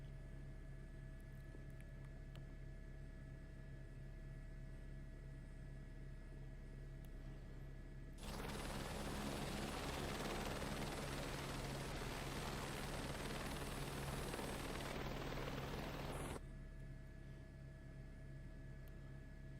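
A helicopter flying over New York in Microsoft Flight Simulator 2024 gives a steady rotor and engine roar that swells in for about eight seconds and then drops away, over a faint background hum.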